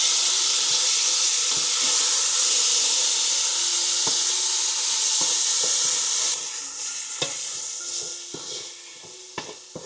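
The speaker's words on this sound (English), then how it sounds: "I'm gonna add some of my sugar-free stir fry. Let's mix that up." Sugar-free stir fry sizzles loudly and steadily in a hot pan while being mixed, with scattered clicks and scrapes of a utensil stirring; the hiss drops noticeably near the end as the stirring continues.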